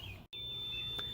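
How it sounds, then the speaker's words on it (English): A steady high-pitched electronic tone, broken by a brief gap, then continuing with a faint hum underneath. "Hey, sorry for the annoying beeping."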